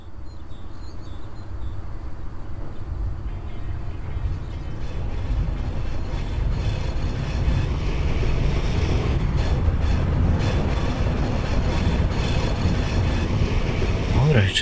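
EP07 electric locomotive hauling four passenger wagons in Open Rails, heard pulling away from the station: a steady, dense rumble with low mechanical drone that holds constant, with some muffled rattling, and no talk.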